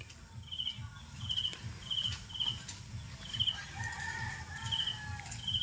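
Rural outdoor ambience with crickets chirping steadily and faint chicken clucks in the background, no talking.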